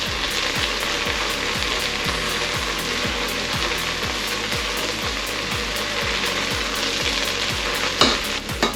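Bacon fried rice crackles loudly and continuously in hot oil in a pan, overlaid by a fast, regular scraping rhythm of stirring that keeps time throughout, close and without talk.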